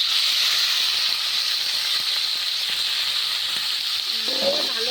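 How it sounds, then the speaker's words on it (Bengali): Dhutra fish sizzling in hot mustard oil in a wok, a steady, loud, bright hiss of frying that holds constant throughout, with faint clinks and a short tonal bleep near the end. "কড়াই গরম হয়ে গেছে, এখন আমি দিয়ে দিব ধুতরা মাছ"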